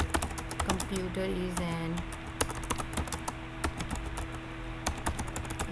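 Computer keyboard keys clatter in quick irregular bursts of clicks while someone speaks over the typing.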